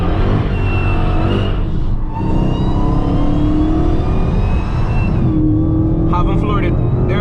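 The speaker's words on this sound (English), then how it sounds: "Like if I floor it right now, it's not gonna grip." An 800hp Dodge Hellcat's engine revving hard close by, a loud continuous roar that rises in pitch, dips briefly, then climbs again before easing off, with a voice talking over it.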